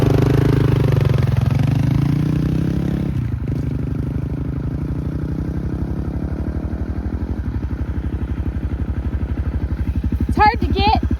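Motorcycles riding a dusty stretch of the Trans America Trail between Azalea and Port Orford, with a steady close engine drone, rhythmic pulsing and some clattering, and a brief sharper rev near the end.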